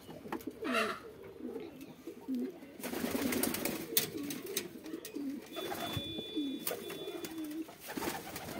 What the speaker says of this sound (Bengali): দর্শক এখানে কবুতর বসছে, এর কাছে ডিম আছে।